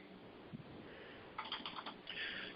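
Quick bursts of keystrokes on a computer keyboard, a brief tap early and then two clustered runs of clicks later on, close and fairly quiet, with no talking.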